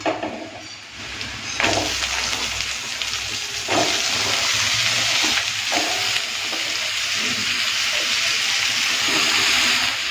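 Bitter gourd, eggplant and potato hit a pan of oil with reddened fried onions, setting off a loud, close, continuous sizzle punctuated by a few stirring scrapes, with no voices.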